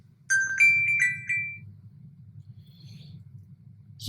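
A mobile phone rings indoors, a short melodic tone repeating a few times at moderate level over a low steady room hum, then fading out and stopping.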